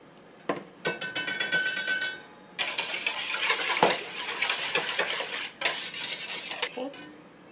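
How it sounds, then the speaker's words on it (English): A whisk clatters rapidly against a bowl while mixing ingredients for homemade rolls, close and rhythmic metallic scraping in several continuous bursts with brief pauses. "So, we're going to whisk that."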